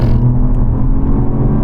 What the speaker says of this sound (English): When you need a sudden burst of acceleration, such as when you're joining a motorway or dual carriageway, this car delivers as well.